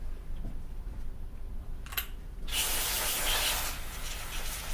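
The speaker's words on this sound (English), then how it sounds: "Once I've sprayed that, the power of the spray will blow away any dust or" An aerosol cleaner sprays the cylinder of a Paslode trim nailer: a brief click and puff, then a long, loud, close hiss of spray.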